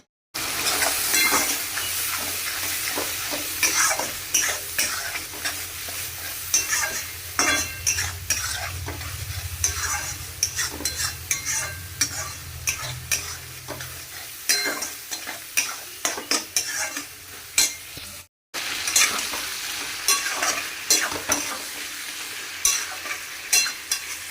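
Chicken being stirred and fried in a pan, with steady close sizzling and frequent spoon scrapes and clatters against the metal throughout.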